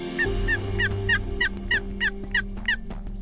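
A distant wild Osceola turkey gobbles repeatedly in a quick rhythmic series from its roost about 250 to 300 yards away in Florida, carrying faintly over a low steady background hum outdoors.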